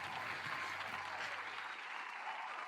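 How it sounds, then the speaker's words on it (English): Audience applause during a podcast episode, a dense, steady wash of clapping that stays loud and even for the whole stretch with no voices over it. "Hey, round of applause."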